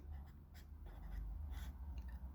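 Pen scratches on paper while math problems are worked out, a series of short, soft strokes and scribbles over a low background rumble, near and quiet, with no speech.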